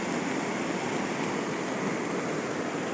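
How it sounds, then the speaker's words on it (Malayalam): Floodwater of a river overflowing its banks and eroding its sides in the Wayanad disaster, a dense, continuous roaring rush with no breaks, steady and loud throughout, with no voices. "പുഴ കര കവിഞ്ഞ് ഒഴുകുന്നതാണിത് സൈഡൊക്കെ ഇടിഞ്ഞുകൊണ്ട് ഇപ്പോഴും ഇടിഞ്ഞുകൊണ്ടിരിക്കുകയാണ്"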